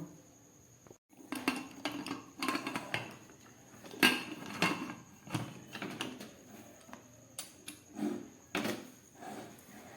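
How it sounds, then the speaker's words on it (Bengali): A pressure cooker of dal being handled and covered, with a series of close metallic clanks, knocks and scrapes of the lid and pot at an irregular rhythm, fairly faint overall. "ডালটা প্রেসার কুকারের মধ্যে দিয়ে দিলাম। এবার এটাকে ঢাকা দিয়ে আমি সিদ্ধ করে নেব।"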